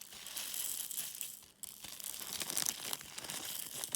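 A plastic zip-top bag holding diamond painting drills crinkles and rustles continuously up close, with a brief pause partway through before the crackling resumes.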